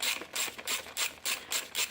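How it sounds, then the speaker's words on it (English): A socket ratchet with an extension working on 8mm bolts holding the instrument cluster cover of a first-generation KLR 650 motorcycle, giving close, quiet, regular raspy clicking strokes in about seven even bursts. "They are 8mm, so we got a socket with an extension"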